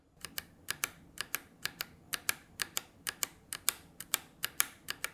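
ROG Strix Scope RX TKL keyboard with keycaps fitted on its RX switches, typed in a brisk, steady stream of crisp clacks, around two dozen keystrokes, near and unaccompanied by voices.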